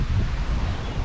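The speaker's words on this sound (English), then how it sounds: "The wind is absolutely brutal." Strong wind on the Sarn Helen trail in Wales buffets the microphone in a steady, loud roar with no other sounds standing out.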